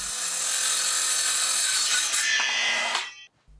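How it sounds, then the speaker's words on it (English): A circular saw cuts through treated 4x2 timber, a loud, steady high-pitched whine under load for about three seconds before the blade clears the wood and spins down abruptly, close by with no talk. "first I'm going to cut them to length with the circular saw"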